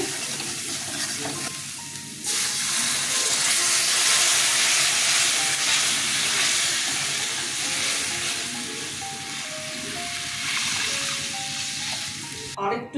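Water poured into spiced masala frying in a pan for pumpkin and duck egg kofta curry sets off a loud, sustained hiss and sizzle that swells abruptly and carries on steadily before fading slightly.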